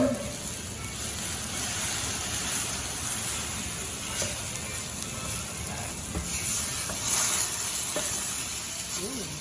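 Shrimp stock poured into a sizzling roux in a cooking-school kitchen gives a steady, fairly close frying sizzle and hiss with faint stirring, running throughout at an even level.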